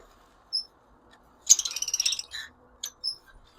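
Caged breeder birds, a mix of pairs kept together, give short high chirps and a quick burst of twittering calls against a quiet background.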